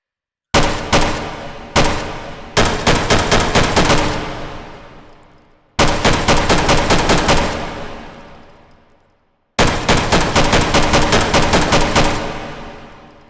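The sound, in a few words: semi-automatic rifle gunfire in video game H3VR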